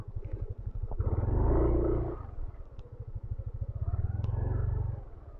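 A newly bought motorcycle rides through a river and mud, its engine chugging steadily and loud up close, with throttle surges swelling and easing over the churning run.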